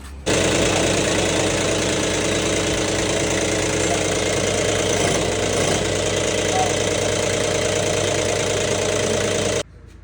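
A tractor engine starts abruptly and runs loud and steady for several seconds, a knocking diesel idle with constant vibration, then cuts off at the end.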